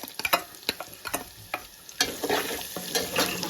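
Sliced onions frying in a pan for buttermilk rasam: quick, close scraping and tapping of a spatula over a sizzle that swells louder and denser halfway through, with no voices.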